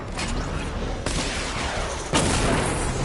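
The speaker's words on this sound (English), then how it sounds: "Destroy targets to charge up weapon energy and activate missile barrage" Missile barrage launching in a Batman video game, with two heavy whooshing blasts splitting a continuous roaring rumble of fire, loud and close and with nobody speaking.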